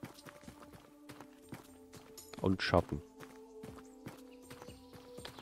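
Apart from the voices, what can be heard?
horses clip-clopping in Tavern Manager Simulator video game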